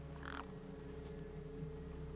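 Crows cawing over a corpse in the video game Beyond a Steel Sky, a couple of brief harsh caws over a steady low ambient hum, fairly faint and distant.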